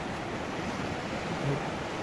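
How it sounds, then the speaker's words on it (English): Waves lapping at the shore of a flooded river in Maple Ridge Park, a soft continuous wash of water with a faint swell near the end, quiet and steady with light wind. "there's waves lapping at the shore here"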